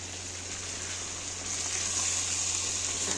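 Black pepper chicken with garam masala and salt marinade being fried in a little oil, a soft steady sizzle that swells slightly midway, close and even with a faint hum underneath and no voices.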